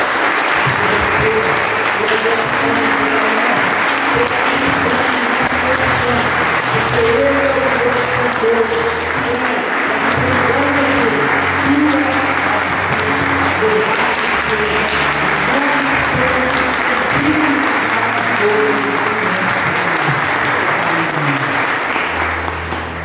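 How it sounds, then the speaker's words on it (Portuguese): Sustained applause from a church congregation after a sermon, a dense, steady wash of clapping lasting throughout, with faint voices mixed in. "Você pode dar um aplauso ao Senhor agora?"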